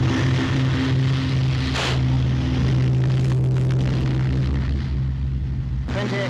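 Steady, loud droning piston engine of a Hawker Sea Fury warplane on a ship's deck before a catapult launch, with brief rushing bursts partway through and again at the end.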